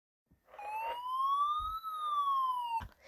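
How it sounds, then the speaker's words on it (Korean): A single siren wails alone, its pitch rising slowly then falling back, loud and steady for a couple of seconds, with faint low rumbles underneath. "구급차나 소방차가 지나갈 때 나는 사이렌 소리인데요"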